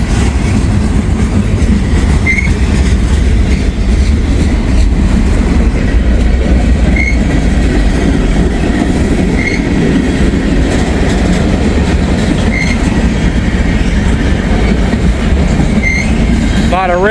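Freight train boxcars, including an old 1975-built boxcar, rolling past on the B&O railroad, a loud continuous rumble with rhythmic wheel clicks and faint squeals throughout.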